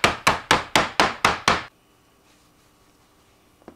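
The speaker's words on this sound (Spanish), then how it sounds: "con un martillito o con lo que tengan, yo tengo este de cocina, así que con eso vamos a estarlo quebrando" A small kitchen mallet cracks Guatemalan pork crackling skin in seven sharp, evenly spaced strikes, loud and close, then stops to near silence with a faint knock at the end.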